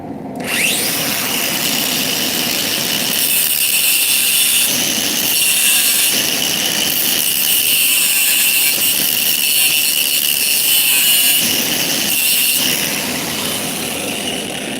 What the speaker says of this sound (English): I'm just using the angle grinder because it's still a little hot yet